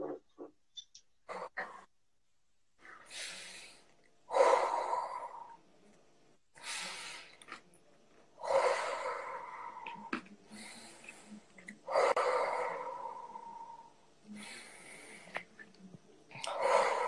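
Slow, deep breaths drawn close to the microphone, each swelling and fading in turn, repeating every few seconds with quiet gaps between them and no talking.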